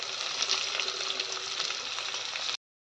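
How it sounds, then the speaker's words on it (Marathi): Onion fries with chillies in hot oil for Maharashtrian kanda poha, a dense, close, continuous sizzle with crackling that cuts off abruptly. "छान असा फ्राय होऊ द्यायचा आहे कांदा लाल होईपर्यंत"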